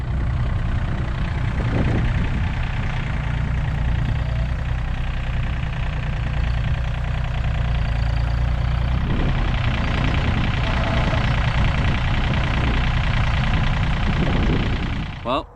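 John Deere 3025D compact tractor engine idling close by, a steady unbroken mechanical drone that holds level throughout and cuts off at the very end.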